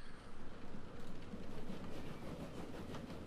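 A train in the video game Transport Fever rumbles along with a steady, faint rolling clatter of rail transport, continuous and without speech.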